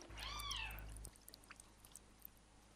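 A single drawn-out cat meow in a 1962 German film, close and clear, followed by quiet room noise with a few faint clicks.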